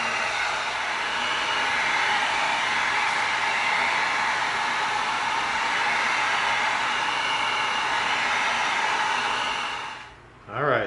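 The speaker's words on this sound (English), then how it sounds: "Now we're going to bring in our heat gun." A heat gun blows steadily on EVA foam for a Assassin's Creed tomahawk prop, a loud continuous airy roar that holds for about ten seconds, then cuts off abruptly, followed by a brief bump.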